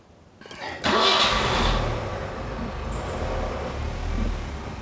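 A car engine starts abruptly with a bright burst, then settles into a steady low idle rumble close by, with small rises in revs and no talking.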